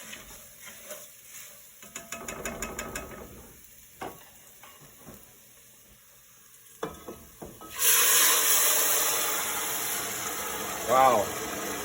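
A loud hissing sizzle erupts suddenly and holds steady as hot boiled puree is poured into rice, after quieter clattering and stirring with a low background hum.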